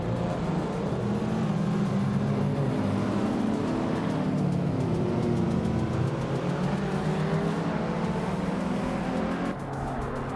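Racing cars roar through a video game race start, a continuous dense engine drone with shifting revving tones as the pack jostles, loud and steady throughout.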